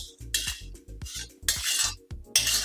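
Dry grated coconut roasted in a pan, stirred with a utensil that scrapes and clinks against the metal in close, rhythmic bursts, with short gaps between strokes.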